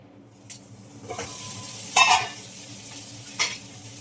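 Ridge gourd pieces fry in a pan under a low, steady sizzle, with three or four short scrapes and clinks from stirring close by.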